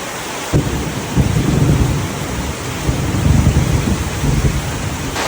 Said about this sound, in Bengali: বিকট আওয়াজ করে হচ্ছে বজ্রপাত